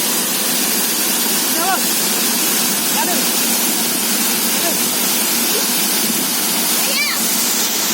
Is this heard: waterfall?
yes